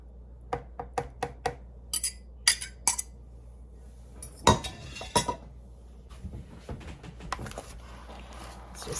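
Utensils clink and tap against a bowl as Chinese chicken slaw is mixed with its whisked dressing: a run of sharp separate clicks, then softer scraping and stirring with a few brighter knocks, close by and fairly quiet.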